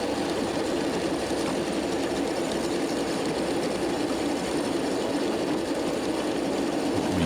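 Miniature live steam train giving a ride along its track, a steady, loud rolling rumble and clatter of wheels on rails heard close up and alone, continuing without a break.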